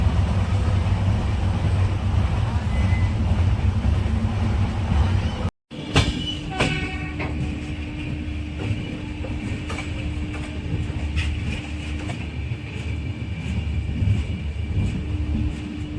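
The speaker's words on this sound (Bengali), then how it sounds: "ট্রেন কিন্তু এখন ভালো স্পিডেই চলছে, 110 কিলোমিটার প্রতি ঘন্টা বেগে চলছে।" The 12828 Purulia Howrah SF Express runs at around 110 km/h with a loud, steady rail rumble and faint clatter. The sound cuts out briefly near the middle, then the same drone resumes.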